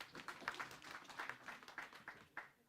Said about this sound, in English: Members, let us give a loud clap to Team Kasese.